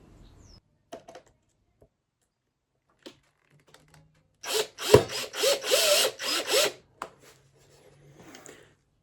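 A screw is driven into a guitar body's front during a Back to the Future guitar build, a burst of close ratcheting, grinding turns for about two seconds, with quieter tool handling clicks before and after.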